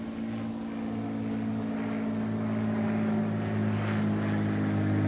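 A steady low engine drone of an aircraft passing, constant and rumbling throughout with no voices.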